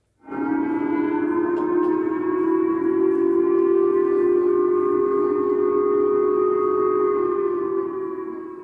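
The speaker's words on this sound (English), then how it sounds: "Japan's government initially sounded these sirens as a warning that a missile had overflown its territory" A civil defense missile warning siren in Japan starts abruptly and holds a steady, loud multi-tone wail for several seconds, sustained and unwavering, then begins to fade slightly near the end.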